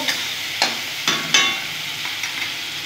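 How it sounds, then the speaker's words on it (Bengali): Garlic, ginger and dried and green chili paste sautéing in a pan, soft sizzling with a few distinct stirring scrapes in the first half, fairly quiet and without talk. "এখানে রসুন, আদা, শুকনো লঙ্কা, কাঁচা লঙ্কা সব পেস্ট আছে, দিয়ে দিলাম। ভালো করে কষে নেব"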